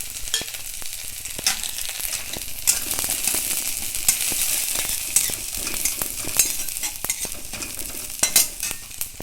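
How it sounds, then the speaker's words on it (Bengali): Dried red chillies, ginger and a bottled cooking sauce hit hot oil in a pan, giving a loud, steady sizzle with bursts of crackle and the scrape of stirring throughout. "তেলটা গরম হয়ে গেছে, শুকনো লঙ্কাটা ফোড়ন দিয়ে দিচ্ছি, আদাটা দিয়ে দিচ্ছি আর সাথে দিয়ে দিচ্ছি রাঁধুনি সসটা।"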